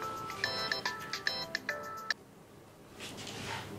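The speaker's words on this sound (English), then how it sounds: "No matter what, answer your phone." A mobile phone ringtone plays as a bright repeating electronic melody for about two seconds, fairly close and clear, then cuts off when answered, leaving faint room noise.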